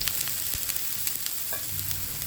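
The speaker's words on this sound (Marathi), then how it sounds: "आपण लगेचच हा दुसरा थालीपीठ पण टाकूया आणि लगेचच त्याच्यावर तेल सोडते" Thalipeeth, a flatbread, fries in oil on a pan with a dense, steady sizzle and faint crackles, close and moderately loud with no talking.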